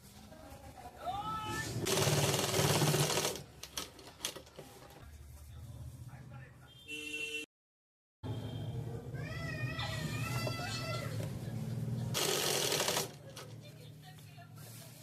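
A sewing machine stitches a blouse in two short bursts of rapid whirring, with a person talking between them and a brief silent gap in the middle.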